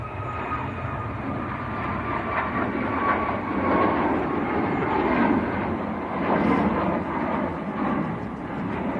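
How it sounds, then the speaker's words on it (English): TUI jet airliner rolling down the runway on its takeoff run at Manchester Airport in windy conditions, a loud continuous engine roar with a broad rumble that swells slightly as it passes. "this TUI that's on the roll, just about to rotate, going down to Banjul"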